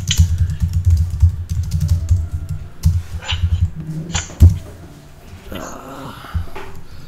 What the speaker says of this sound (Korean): 타이핑 좀 하고요.